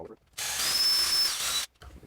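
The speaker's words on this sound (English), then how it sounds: "I'm just going to drill these pilot holes right quick." Electric drill boring 1/16-inch pilot holes into wood, a single steady whirring burst of about one and a half seconds, close and fairly loud, with brief quiet before and after.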